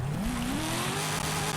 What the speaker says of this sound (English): you want to get those tires nice and hot. So they stick to the ground.